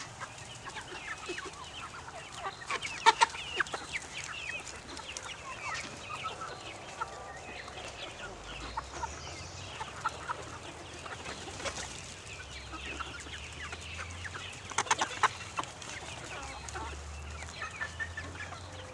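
Backyard chickens cluck and murmur steadily while being fed, with occasional louder squawks and scattered pecking sounds, moderately close and without talk.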